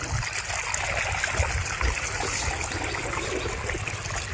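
Irrigation water running into a jute field in a village, a steady close trickling and gurgling flow with a faint low rumble and no voices.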